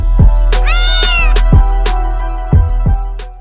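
A black cat gives a clear, close meow with a rising then falling pitch. A series of sharp knocks and thuds sounds before and after it.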